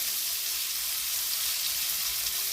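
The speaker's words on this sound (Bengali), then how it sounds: "চিংড়ি মাছগুলোকে একটু ভেজে নিয়ে আমি তুলে রাখবো" Prawns with turmeric frying in a pan, a loud, dense, continuous sizzle with a bright hiss that holds steady for the whole stretch, close up and with no voices.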